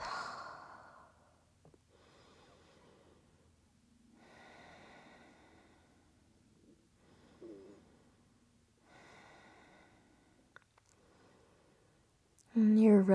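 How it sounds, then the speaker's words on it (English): Slow breathing while resting in child's pose during a full-body yoga flow, with several soft, unhurried breaths at a low level, close by, ending with a sudden louder sound. "Slow down your breath."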